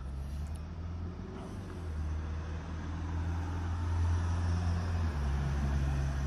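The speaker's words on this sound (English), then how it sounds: "There'll be some light traffic noise" Light road traffic rumbles steadily throughout, a continuous low hum of passing cars and heavier vehicles nearby, swelling slightly toward the middle with no one speaking.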